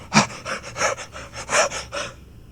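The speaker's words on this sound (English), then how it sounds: "You gasp back and forth." A person gasps in quick, loud breaths, about seven heavy inhales and exhales in a row, close up, then falls quiet.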